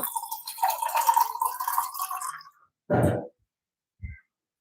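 Cold water is poured into a bowl and stirred for a homemade milkshake: a steady trickling pour for a couple of seconds, then two short separate splashes or stirs, close and fairly quiet.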